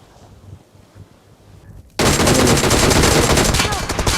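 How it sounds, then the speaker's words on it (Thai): Gunfire from the PUBG Mobile video game starts suddenly after a quiet stretch and becomes a loud, dense burst of rapid automatic shots that keeps going steadily to the end. "ผมโดนยิงแบบแทงน้ำข้างบน"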